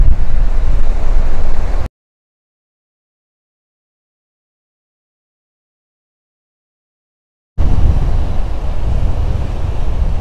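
Heavy surf roars on a Punta Cana beach with strong wind buffeting the microphone, then cuts to complete silence for several seconds before the crashing waves and wind return.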